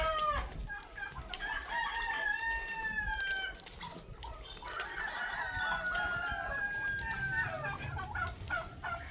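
A turkey and chickens call in a rural provincial yard, with repeated clucks, crowing and warbling calls layered over one another at a moderate distance, and no talk.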